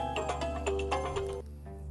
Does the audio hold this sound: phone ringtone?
yes